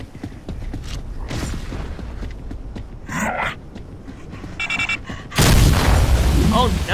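A frag grenade going off in the video game Gears of War 3, a heavy, loud burst erupting late after scattered clanks and mechanical noises, with voices talking in the clip.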